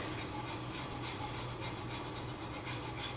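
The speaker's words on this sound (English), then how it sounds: "you just want to keep whisking" Grits being whisked in a pot make a faint, steady scraping and swishing, an even rasping rub with no speech over it.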